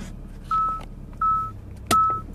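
A Pioneer parking sensor on a Ford Escort gives three short, clear electronic beeps spaced apart as the car reverses, with no talking.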